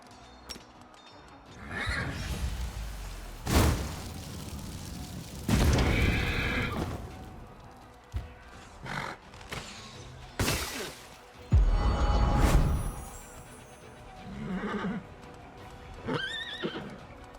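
Several loud horse neighs and whinnies burst out one after another in Pathfinder: Wrath of the Righteous, with hoof clatter and booming game effects between them.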